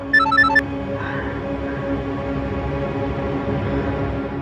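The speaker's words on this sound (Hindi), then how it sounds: "जेम्स का फोन" A phone ringtone chimes in a quick melodic pattern for about half a second, then stops, leaving a steady hum of background noise.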